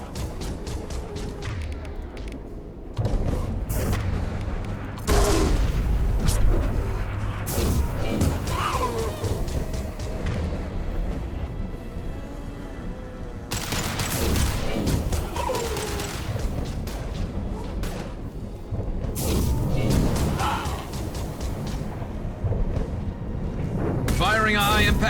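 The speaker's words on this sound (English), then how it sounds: "Firing a high-impact shot." Video game combat in Mass Effect 2 with bursts of gunfire and heavy high-impact shots and crashes, loud and chaotic, coming in repeated surges under frequent talking.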